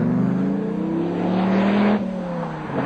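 Dodge Viper SRT10 with side-exit exhaust pipes driving, its engine a loud, steady drone that rises in pitch as it accelerates, then drops sharply near the end as it shifts gear, with no talking.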